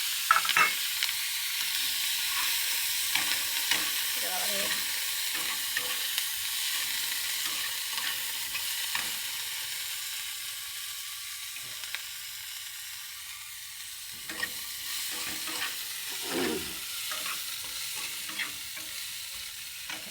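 Kochur loti, taro stolons, frying in oil tempered with radhuni, a steady close sizzle and hiss that runs throughout, broken by occasional scrapes and stirring knocks of a spatula.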